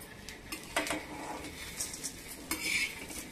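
Roasted onion, whole spices, curry leaves and bay leaves get scraped from the pan into a pot, with a few close clinks and scraping strokes of a metal spoon against cookware.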